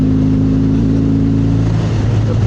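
A Kawasaki W650 motorcycle engine running rough and spluttering from its carburetors, a loud, close, steady low rumble with slightly uneven pulsing and no talk.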